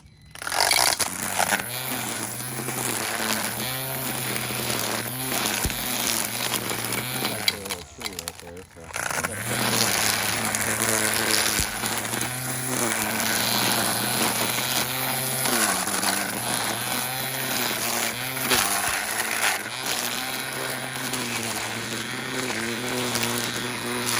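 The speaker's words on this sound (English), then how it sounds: "I mean, it's just a weed whacker." A HyperEcho cordless string trimmer cutting grass runs as a steady, close motor whine with a scraping buzz. It drops out briefly partway through, then resumes continuously to the end.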